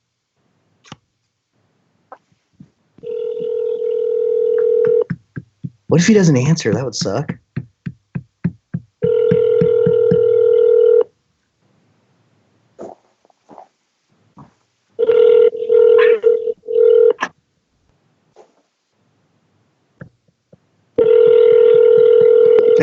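Outgoing telephone call ringing back in repeated steady tones with silent gaps between rings; a person talks briefly over the pauses and some knocking and handling noise occurs midway.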